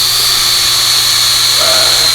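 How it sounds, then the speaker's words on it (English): A drill bores steadily into an African animal skull during repair work, giving a constant, loud high-pitched whine that holds an even pitch for the whole two seconds with no pauses. "the only hard spot on the whole skull is where you go to drill it"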